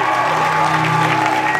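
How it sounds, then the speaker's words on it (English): At a convention stage event for cosplay finalists, a crowd applauds in a continuous roar of clapping, with sustained tonal music or amplified sound running underneath. "Give them a huge round of applause."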